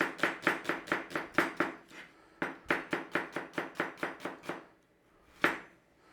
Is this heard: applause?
no